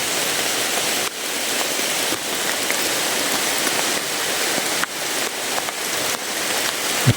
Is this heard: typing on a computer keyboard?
no